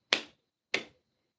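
Two sharp, separate hand claps about half a second apart, close and crisp, each with a quick decay, during a sing-along of "If You're Happy and You Know It"; no one speaks.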